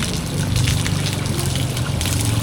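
Water splashing and trickling during rinsing at a fishing pier after dark, a loud close sloshing with irregular bursts and a low rumble beneath.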